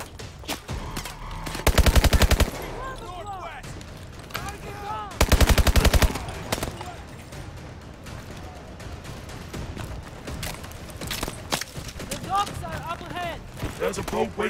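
Bursts of automatic gunfire from a weapon in Call of Duty Advanced Warfare, two loud sustained volleys followed by scattered shots and mechanical clatter, with someone talking over the action.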